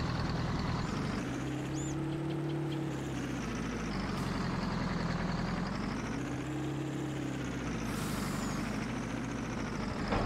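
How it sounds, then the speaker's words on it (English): Truck engine in the Farming Simulator 22 video game, a steady low idling rumble with a brief hiss like an air brake, continuous and fairly loud throughout. "there's the truck."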